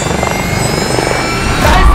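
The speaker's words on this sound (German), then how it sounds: "Wir haben die Drohne eine Sekunde in der Luft" A drone flies overhead with a dense, steady rotor whir and high-pitched motor whine that swells louder toward the end, close and loud throughout.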